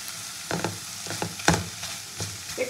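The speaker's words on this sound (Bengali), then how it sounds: "এবার আলু সেদ্ধটাও দিয়ে দেবো এর মধ্যে।" Boiled potato is dropped into a fish chop mixture made with gada fish, producing a few soft, close thuds and stirring scrapes over a steady background hiss.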